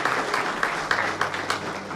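A church congregation applauding together, making dense, continuous clapping that fills the room at a steady, fairly loud level throughout.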